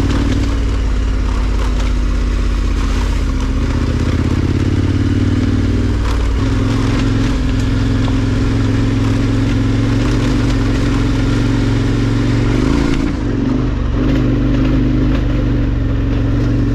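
A motorcycle on Mitas E07 tyres rides a dirt fire road, its engine droning loud and steady throughout with shifting rev pitch, rattles and rough-surface clatter mixed in.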